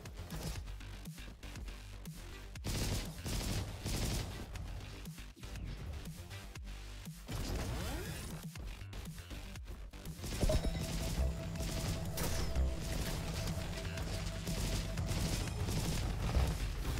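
Gunfire and explosions in the video game Roboquest, a dense, steady stream of rapid shots, crashes and booms throughout, with game music or a tone running underneath later on.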